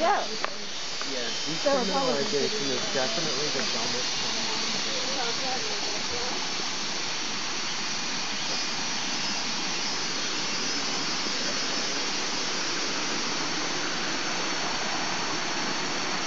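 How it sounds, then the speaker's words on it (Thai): Bua Thong waterfall near Chiang Mai, Thailand, gives a steady, loud, broad rushing hiss that stays constant throughout, with a voice talking briefly over it at the start. "แล้วก็ไหลลงไป ตกตะกอน รวมกันเป็นน้ำตกสวยงามด้านล่างครับ"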